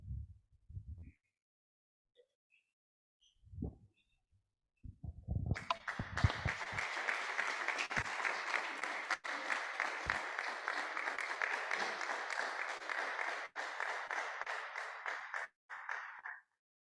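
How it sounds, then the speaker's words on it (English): Audience applause at an award presentation during a regional dialogue event, a sustained round of clapping that starts after a few soft knocks and runs steadily for about ten seconds before cutting off. "Can we give a round of applause?"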